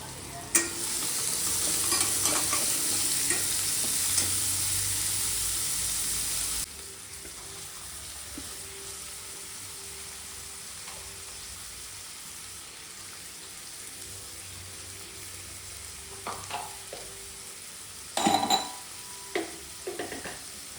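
Chopped onion hits a hot pan and fries with a loud, dense sizzle for several seconds, then the noise drops to a quieter background simmer broken by a few clinks and stirring scrapes.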